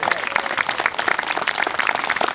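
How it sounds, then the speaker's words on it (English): A crowd claps and cheers at a Bernie Sanders campaign rally in Mid-City, Los Angeles, producing dense, continuous applause. "let's give her a round of applause"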